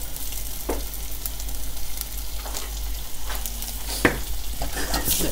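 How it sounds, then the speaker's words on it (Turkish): Carrots and potatoes sautéing in butter and a little olive oil, a steady loud sizzle with occasional stirring scrapes and one sharp clack, no voices. "tereyağında ve bir miktar zeytinyağında havuçlarımızı ve patateslerimizi soteleyerek başlıyoruz"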